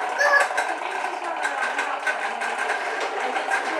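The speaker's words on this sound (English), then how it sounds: "you just push it and it sounds just like a little lawnmower engine going to town." A push-along toy bubble lawn mower rolls along, giving a continuous buzzing, whirring mechanical drone like a little engine, close and fairly loud for its whole length.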